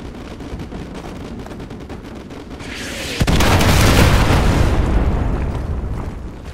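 Artillery strike in Call of Duty: Modern Warfare 2, an urban war zone with distant gunfire rattling underneath. A sharp crack is followed by a loud, roaring wave of explosions that swells and slowly fades.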